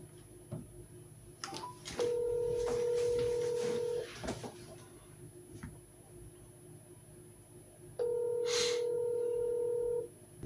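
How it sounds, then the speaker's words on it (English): A telephone call is dialed, then a ringback tone sounds in two long steady bursts, with faint clicks and background noise between the rings. "Let's try to get Steve on the phone."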